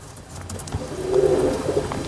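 Pigeons of a pure Kasur bloodline coo softly nearby, a low murmuring call swelling in the second half over faint background noise, with no talking.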